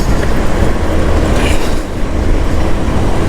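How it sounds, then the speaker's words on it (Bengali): A train rolls along a railway close by, a loud continuous rumble with rhythmic clatter of wheels on rails, heard while racing alongside on a motorcycle. "ট্রেন আমাকে ছেড়ে অনেক দূরে চলে যাচ্ছে"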